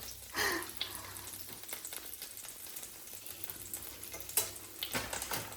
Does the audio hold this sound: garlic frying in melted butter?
yes